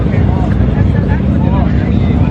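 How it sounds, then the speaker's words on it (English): A Mercedes G-Wagon exhaust roars with a deep, continuous rumble close by at a car meet, loud and dense throughout. "That exhaust."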